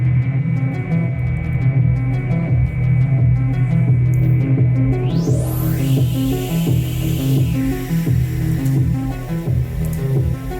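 Pulsing electronic tones from a modular synthesizer throb in a steady rhythm, harsh and metallic with a rising noisy sweep midway, continuous and fairly loud.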